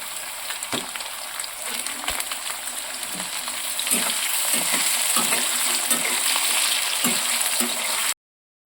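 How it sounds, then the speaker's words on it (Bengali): Grated coconut and potatoes fry together in oil for a Bengali mochar ghonto, making a steady close sizzle with intermittent stirring knocks and scrapes, heard alone before the sound abruptly cuts out. "এবার কুচুরো নারকেলগুলো তেলের মধ্যে ছেড়ে দিলাম"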